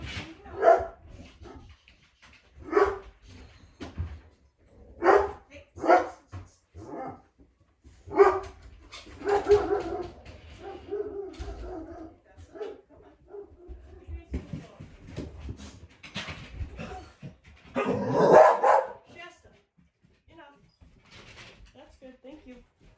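Several dogs bark indoors in sharp separate bursts and short volleys, loud and close, with a whimper near the end and someone talking quietly between barks.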